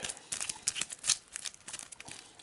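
A deck of Arkham Horror 2nd Edition game cards, the Miskatonic University deck, shuffled by hand, giving a quiet run of crisp riffling and flicking card sounds with no voices.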